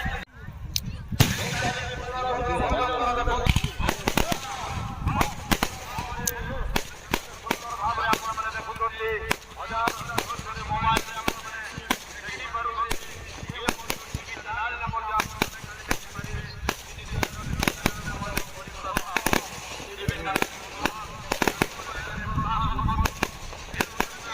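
Firecrackers and firework rockets going off near a temple, a dense, continuous barrage of sharp cracks and bangs with whistling rockets in between, loud and close, with voices shouting beneath it.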